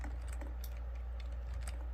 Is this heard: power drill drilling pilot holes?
no